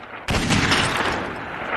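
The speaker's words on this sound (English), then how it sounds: "the very beginning of this clip is very loud because it starts with a gunshot" A sudden loud gunshot cracks in after a brief quiet moment, followed by a long, dense roar and rumble that slowly fades, as at the opening of a TV crime drama.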